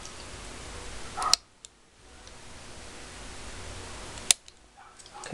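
An Autococker paintball gun is cocked twice, each time with a sharp, close mechanical click over steady hiss, separated by a few seconds of quieter handling.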